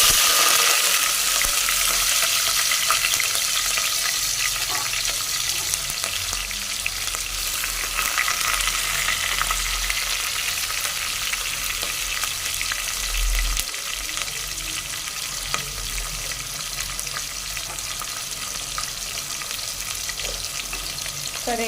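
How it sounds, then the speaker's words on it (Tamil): Onions and curry leaves fry in hot oil for mutton curry, giving a steady, loud sizzle with occasional stirring scrapes throughout, no voices. "இப்போ கருவேப்பிலையும் வெங்காயமும் போட்டுக்கலாம்."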